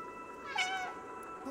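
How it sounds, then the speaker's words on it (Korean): A single short cat meow from the video game Stray rings out clearly over a faint background hum. "야옹 소리 내기."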